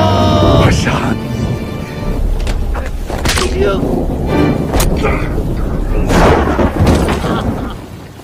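Deep thunder rumbles and booms from a lightning strike in a dramatic movie scene, loud and close, with heavy noise and sharp cracks running under talking voices.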